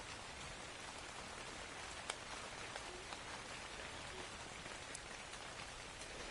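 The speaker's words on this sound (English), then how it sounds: "And now it's raining." Steady rain falls in the video game ARK, a soft even hiss of drops with occasional faint ticks, heard alone with no talk.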